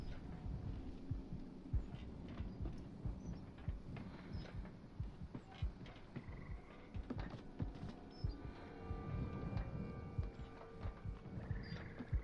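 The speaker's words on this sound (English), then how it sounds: "God, I can hear my heart, like the heartbeat." Steady low throbbing heartbeat in the survival horror game Resident Evil 7 Biohazard, pulsing continuously under a dark ambient hum with faint distant tones, no talking.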